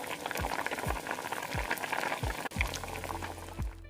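Broth simmers steadily in a pot with chicken stock or water and green bok choy, a soft continuous bubbling punctuated by gentle low plops, heard alone at close range.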